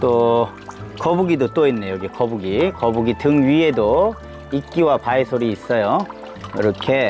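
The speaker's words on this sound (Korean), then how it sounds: "요 물소리 보세요 물소리 들리세요" Mountain water trickles steadily into a stone basin in a succulent rock garden in Goesan, North Chungcheong. The soft, continuous flow sits beneath someone talking close up almost the whole time.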